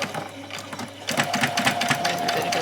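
Sewing machine back stitching a doll's dress, its needle running in a fast, close rhythmic whirr that speeds up and grows louder partway through, heard up close without talk.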